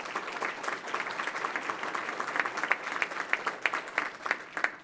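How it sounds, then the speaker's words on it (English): An audience gives sustained applause, a dense steady clatter of many hands clapping, moderately loud and continuous with no talk over it. "Let's give them a round of applause."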